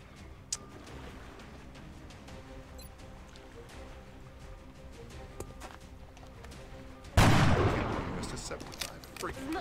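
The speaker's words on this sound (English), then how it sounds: "let's take our shots with the marksman" Gunfire from the XCOM Long War video game as a marksman takes a shot: a long stretch of low game ambience with faint ticks, then a sudden loud burst near the end that stays high as it fades.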